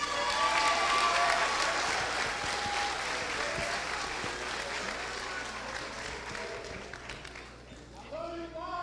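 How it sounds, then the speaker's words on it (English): Applause from a graduation audience for a citizenship award recipient, sustained broadband clapping that stays loud throughout before thinning near the end, with some voices mixed in. "Please give a round of applause to our 2017 Citizenship Award recipient, Marquette Lacine."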